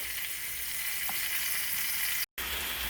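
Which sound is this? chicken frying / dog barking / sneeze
chicken frying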